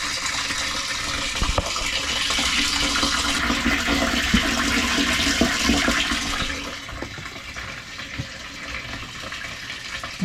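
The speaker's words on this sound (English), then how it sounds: "you can hear it's filling quite fast" Water gushes steadily through a new hose into a motorhome's water tank, filling fast with a continuous hissing rush that softens slightly toward the end.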